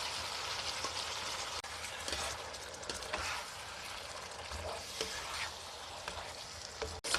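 Baby squid stir-frying with added seasoning in a hot pan, a continuous sizzle and crackle with scraping stir strokes throughout, close and steady, no voices.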